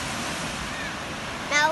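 Sea waves break on a beach in Zeeland, heard as a steady close wash of surf with wind noise, and a brief high voice enters right at the end.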